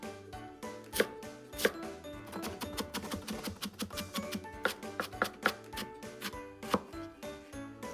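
Vegetables being finely minced with a knife on a cutting board, quick rhythmic chopping taps, close and crisp, with bursts of faster strokes and no voices.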